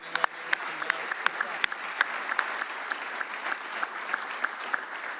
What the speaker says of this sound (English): Stand up and let us give you a round of applause here.